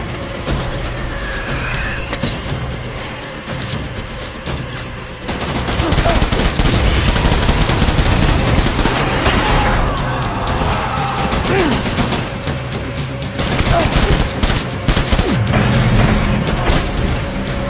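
Gunfire in the video game Death Stranding, a loud, dense stretch of rapid automatic bursts and mechanical clatter that continues for many seconds, with a battle din underneath.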